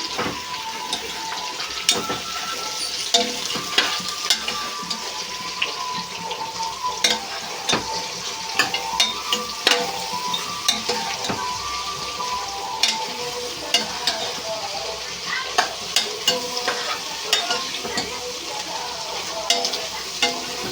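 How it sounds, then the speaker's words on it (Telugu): Meal maker soya chunks fry in a pan with a continuous sizzle, broken by frequent scraping stirs and light clinks of the utensil against the pan. "మిల్ మేకర్ కూడా ఫ్రై అవ్వాలి"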